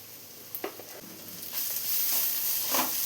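Ingredients sautéing in a pan with turmeric, a steady soft sizzle that grows slightly louder, broken by a few scraping stirs of a spoon, close by with no talk.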